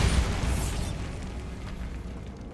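A Bombarda spell explosion in the video game Hogwarts Legacy, one loud booming blast that hits at once and fades into a rumbling tail over a couple of seconds.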